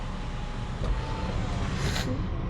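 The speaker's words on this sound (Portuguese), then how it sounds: "vem com a capota vem fechando, faz o fechamento completo, vem depois fechando o teto solar, juntamente fechando os vidros do carro" Motorized soft top, sunroof and power windows closing on a Mini Cabrio S convertible after rain, a steady mechanical whir and hum heard close up and continuous, with no talking.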